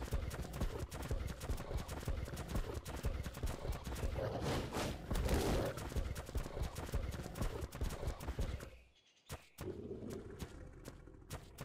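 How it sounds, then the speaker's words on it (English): Horse hooves clip-clop steadily in the God of War game while exploring Svartalfheim's dwarven ruins, a dense busy run of hoofbeats that drops out near the end, leaving a few scattered thumps. "Horses."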